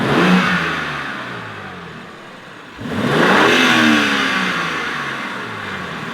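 A BMW M2 G87 with stock intakes and exhaust is revved up loudly, eases off, then is revved hard again and held before settling, with rising and falling engine tone throughout.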